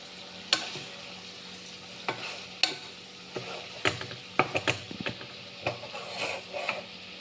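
Spatula stirring egg fried rice in a hot pan, a series of scraping clacks and clinks at irregular intervals over a soft steady sizzle, close and moderately loud.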